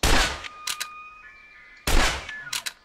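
Two loud gunshots from hunting animals in the game Open Country, each a sharp blast trailed by a couple of quick echoing cracks, with a quiet gap between them.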